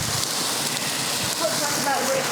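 Rain falls steadily over an outdoor British barbecue where lamb shish kebab skewers are cooking, a constant close hiss of drops with a faint voice briefly in the background.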